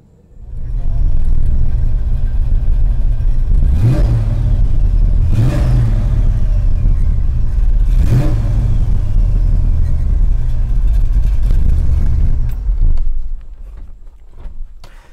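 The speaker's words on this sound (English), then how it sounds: "there's nothing like the sound of that Mark IV big block." A 1966 Chevrolet Biscayne with a Mark IV big-block V8 rumbles loudly and steadily up close, with three sharp revving bursts rising above the idle before the engine note eases off near the end.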